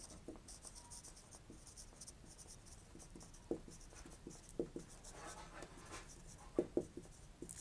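Chalk or a marker scratching on a board during a Class 12 maths lesson on differentiation, with faint, close strokes and a few sharper taps, quiet and with no talking.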